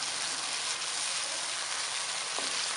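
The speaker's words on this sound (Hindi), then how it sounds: "मज़ीद भूनेंगे थोड़ी देर।" Onion and spice masala fries in a pan for fish curry, a steady close sizzle with faint stirring, no voices.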